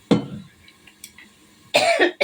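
A person coughs while cooking split pea dal in a home kitchen: one harsh, close cough at the start, then quiet stirring sounds and a second burst of coughing near the end.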